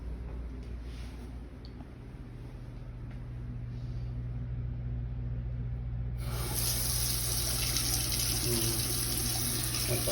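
A newly installed Glacier Bay bathroom faucet runs hot water into the sink, a steady splashing hiss that grows noticeably louder and brighter partway through as the flow opens up.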